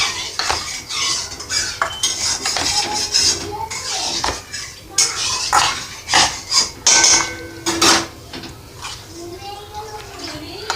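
Spices and asafoetida being stirred into a potato bori curry in a pot, with irregular metal clinks and scrapes of a spoon against the pot and a voice talking at times.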